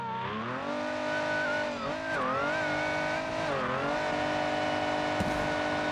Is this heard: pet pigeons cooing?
no